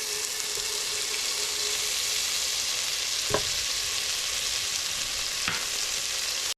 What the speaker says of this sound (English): we're going to melt down 6 tablespoons of butter